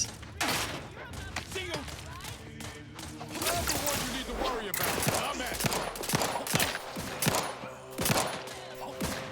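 Gunfire in The Outer Worlds 2 rattles in rapid bursts and scattered single shots, with thuds and shattering impacts, loud and near, while a voice talks intermittently over the shooting.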